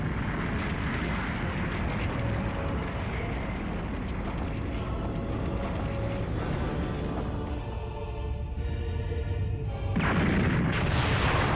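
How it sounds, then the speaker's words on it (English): Fireworks in a Dragon Ball Z game boom continuously in a dense, loud rumble of overlapping blasts, thinning briefly before a fresh swell of explosions. "are you seeing these brilliant fireworks?"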